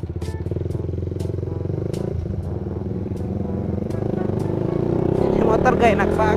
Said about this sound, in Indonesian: Ini motor gak enak banget anjir.